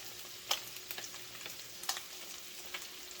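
Crappie fish fries in a pan, a quiet steady sizzle with scattered crackles and pops, close up and with no talking.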